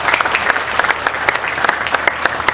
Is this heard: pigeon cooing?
no